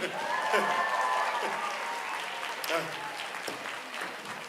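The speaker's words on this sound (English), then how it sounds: "Round of applause for liquid nitrogen." Audience applause at a children's science show after a liquid nitrogen demonstration, a steady wash of clapping running through the clip with a voice talking over it.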